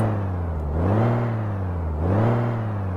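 Steady truck engine hum from Euro Truck Simulator 2 with a Kenworth T2000 mod, with two swells in pitch as it revs up and eases off, continuous and fairly loud with no voices.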